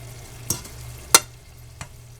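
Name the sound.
stirring pasta with Mexican squash in pan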